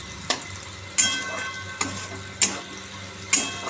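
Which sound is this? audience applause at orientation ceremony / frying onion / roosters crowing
frying onion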